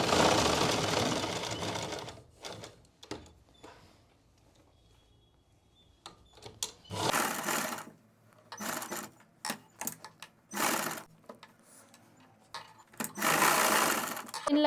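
A sewing machine stitches around the neckline of a suit in several loud mechanical bursts of fast whirring, separated by quiet pauses, with occasional faint voice between runs.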